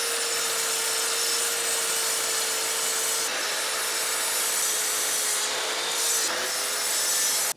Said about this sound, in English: now I'm going to cut to length on the miter saw